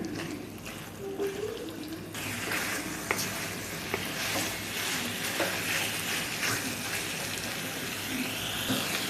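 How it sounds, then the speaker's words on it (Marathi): Steady sizzling and crackling of prawns frying in spice paste in a hot pan, close and continuous, with occasional stirring scrapes. "मसाल्यातच एक दोन मिनटं परतून घ्यायची कोळंबी"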